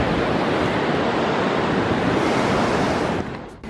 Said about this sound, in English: Can you hear the waves?